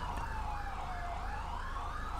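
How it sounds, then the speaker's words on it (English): A police car siren in an SVRP roleplay video game wails in slow rising and falling sweeps, steady and fairly faint, with a low engine hum beneath it and no talk. "Shut your damn siren off."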